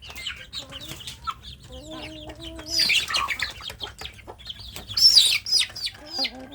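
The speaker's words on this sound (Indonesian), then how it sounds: "anak ayam kampung yang diganggu oleh temannya, semoga tidak membahayakan ya." Young free-range village chickens peep and cluck near the recorder, shrill chirps and short squawks coming in irregular bursts with quiet gaps, and a soft low background noise underneath.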